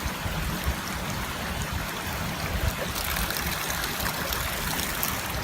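Water trickles and splashes steadily through a Katadyn BeFree 0.6 L filter hung beside a stream, a close, continuous hiss of flowing water with no voices.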